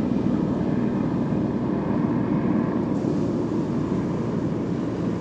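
A steady, loud rumbling drone fills the air, like a helicopter passing overhead in Brazil, broadband and continuous without any talking.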